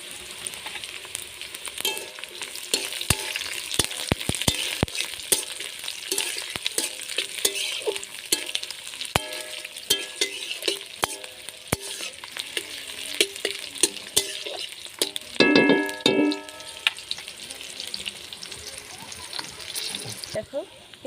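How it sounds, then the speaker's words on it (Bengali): Chopped onion sizzles in a hot pan for chilli paneer, with steady frying crackle and frequent scraping stirs, a louder burst of clattering near the end; no talking. "এবার দিয়ে দেবো পেঁয়াজ কুচি।"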